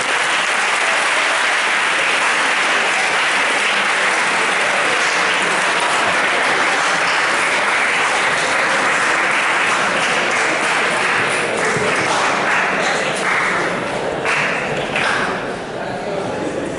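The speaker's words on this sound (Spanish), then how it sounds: "Pues ahora sí que darle un aplauso" Audience at a talk on vaccines against infectious diseases breaks into sustained applause, a loud, dense clapping that fills the whole stretch of nearly seventeen seconds and thins slightly near the end.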